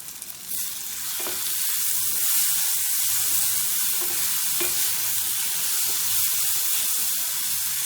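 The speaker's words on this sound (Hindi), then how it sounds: "ताकि मसाले अच्छे से फ्राई हो जाए और टमाटो भी अच्छे से गल जाए" Spices and tomato fry in a pan for an aloo methi matar sabzi, a loud steady sizzle and hiss with occasional stirring scrapes, close and continuous.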